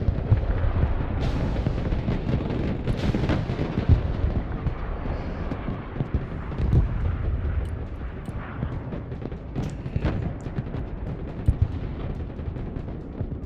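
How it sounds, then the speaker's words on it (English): Bombing strike in the war strategy game Broken Arrow: a continuous loud rumble of heavy explosions and booms rolling over one another, with sharper cracks scattered throughout, no pauses. "We're gonna get a huge bombing strike in."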